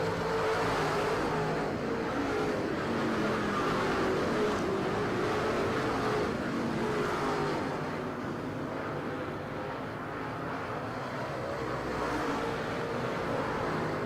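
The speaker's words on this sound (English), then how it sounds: "Out front, man, Richard Ferry clicking the laps off in the blue and gold number 17" Late model race cars lap North Florida Speedway, a continuous loud engine roar and drone that surges and fades a little as the cars circle the short track at night.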